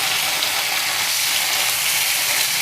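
Paneer cubes lightly frying in a pan, a steady, close, continuous hiss of sizzling oil that holds an even loudness throughout with no voices over it.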